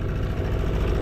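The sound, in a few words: boat outboard motor running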